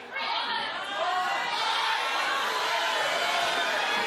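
Studio audience at a talk show, a dense wash of overlapping crowd chatter and shouting that stays loud and continuous throughout, with individual voices blending into a roar.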